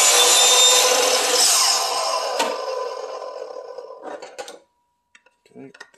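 A miter saw cutting through wood for a bevel test, a loud close whine and cut that winds down over a few seconds, followed by light knocks and handling sounds.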